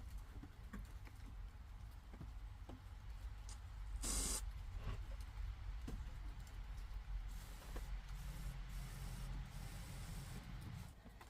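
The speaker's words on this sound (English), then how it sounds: "So I can actually spray inside the door." WD-40 lubricant sprayed inside a van door gives one short, sharp hiss burst midway, set against low rumbling background noise and light handling clicks.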